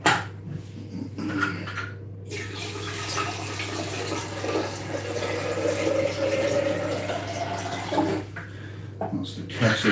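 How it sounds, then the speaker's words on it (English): Water pours steadily from a tap into a kettle, a continuous splashing rush with a low hum and a few soft knocks. "That's the kettle full"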